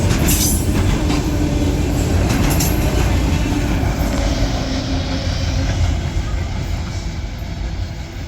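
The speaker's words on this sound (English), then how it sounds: "This welded rail train." A long welded rail train carrying new rail rolls steadily past at close range, a continuous heavy rumble with faint wheel clatter and a high squeal near the start.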